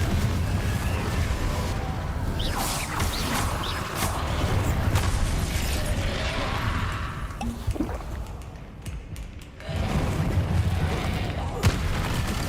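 In Hogwarts Legacy, the Confringo explosive spell goes off with loud booming blasts over a continuous heavy rumble, and a sharp burst breaks through near the end.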